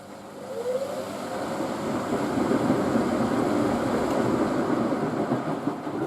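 A Miele W562 Prestige Plus 6 washing machine washing a double duvet runs its intermediate spin. A steady, loud, low rumbling whir holds throughout with a faint rising whine near the start and no voices.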